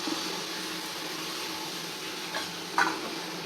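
Mint and chilli powder sizzle and are stirred in a pan for a vegetable biryani: a steady, close frying hiss with a couple of soft scraping knocks near the end.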